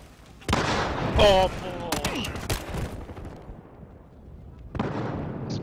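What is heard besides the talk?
incendiary grenade thrown and burning in an esports video game match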